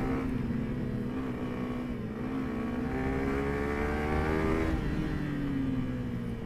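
Motorbikes and other engines idling and revving in a heavy evening traffic jam at Bijli Bazaar, with a continuous close engine drone whose pitch rises and falls, loudest near the end.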